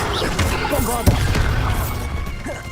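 A Bombarda blasting spell goes off in Hogwarts Legacy, a sudden booming burst standing out once amid a busy clatter of other spell effects and voices.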